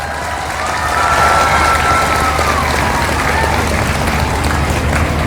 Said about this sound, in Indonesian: Maka tepuk tangan untuk dunia pesantren.